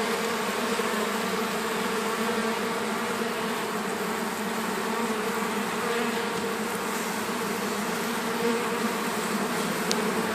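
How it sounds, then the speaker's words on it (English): A ball of honeybees clustered in a thorny bush in Bartow, Florida, hums in a dense, continuous swarm drone during a bee removal, steady and close throughout. "So there's a ball of bees right here behind it."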